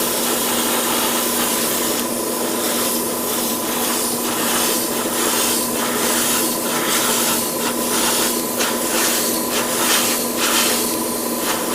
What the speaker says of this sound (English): I'm going to spray paint this first.